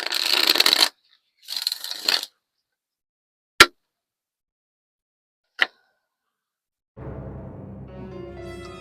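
Tarot or oracle cards are shuffled in two quick rustling bursts close by, followed by a couple of sharp isolated taps and then a low, faint steady hum.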